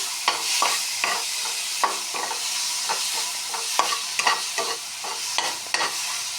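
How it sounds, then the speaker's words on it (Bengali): Ground spice paste frying in a wok with a little water, a continuous sizzle broken by repeated scrapes and clacks of a spatula stirring. "এখন কড়াতে অল্প জল দিয়ে মশলাগুলি ভালোভাবে ভেজে নিচ্ছি।"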